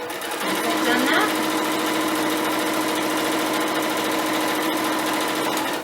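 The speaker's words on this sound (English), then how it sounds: "So I'll just start sewing." A sewing machine runs steadily while stretching elastic to gather fabric, a fast even whirring stitch rhythm, close and continuous, with a voice talking over it.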